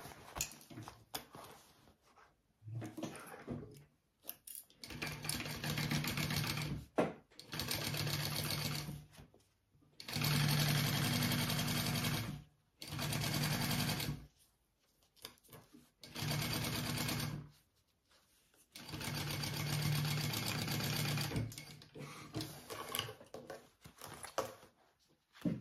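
A sewing machine stitches a lining piece onto a crossbody bag at a quarter-inch seam, running in several loud bursts of steady whirring separated by short pauses.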